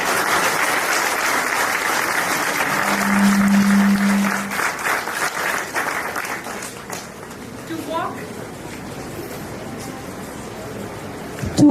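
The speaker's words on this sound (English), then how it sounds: "May I have a huge round of applause" Audience applause at a spiritual talk honouring revered saints, steady dense clapping across the hall that fades and thins toward the end, a brief tone sounding partway through.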